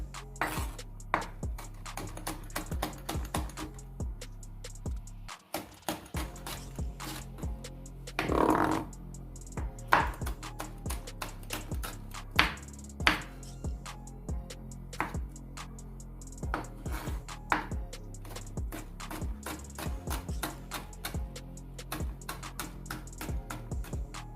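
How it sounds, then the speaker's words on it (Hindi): A knife finely chops green chillies on a board, making a long series of quick, sharp taps in an irregular rhythm with brief pauses, close and fairly quiet. "अब मैं इसको सब्ज़ मिर्च इनको इसी तरह से बारीक बारीक काट लूँगी"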